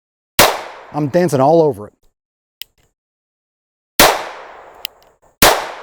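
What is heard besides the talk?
GSG Firefly .22LR pistol shots hitting steel targets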